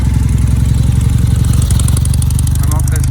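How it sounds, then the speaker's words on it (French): An old BMW motorcycle engine runs steadily close by, a low rhythmic throb with light mechanical clatter, with people talking over it throughout. "Avec une vieille moto, une vieille BM."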